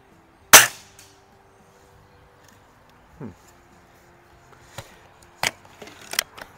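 An RWS Diana 34 T06 Classic break-barrel air rifle fires Norma pellets in a backyard: one sharp, loud crack near the start, then quieter clicks and snaps from handling and reloading, with brief talk in between.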